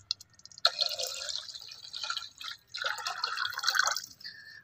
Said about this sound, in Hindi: उसके बाद नारियल का दूध डालो